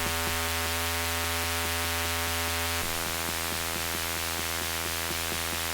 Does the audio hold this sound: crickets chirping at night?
no